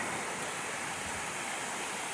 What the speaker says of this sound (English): This is one of the nicest waterfalls